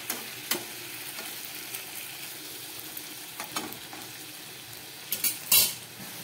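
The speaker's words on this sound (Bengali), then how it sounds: "এবার আমি এই ভেজে রাখা আলু আর বেগুনগুলো দিয়ে" Fried potatoes and eggplant are added to a Bengali sea fish curry cooking in a pan, giving a soft steady sizzle punctuated by several sharp clinks and scrapes of a utensil against the pot.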